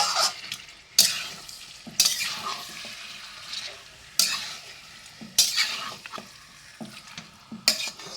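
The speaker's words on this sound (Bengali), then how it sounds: "এবার মাংসগুলোর সাথে মশলাটা ভালো করে মিশিয়ে নেওয়া হবে" Chicken pieces being stirred with spices in a pan for Bengali achari chicken, with sharp spatula scrapes roughly every second over a steady sizzle, up close and without talk.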